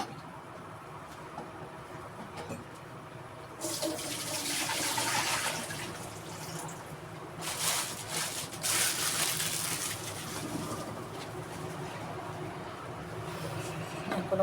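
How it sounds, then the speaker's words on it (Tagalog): A cooking pot of water for sardines with noodles and patola comes to a rolling boil, a churning bubbling roar that swells loudly in waves, heard close with no voices. "Kulo na, kulong-kulo."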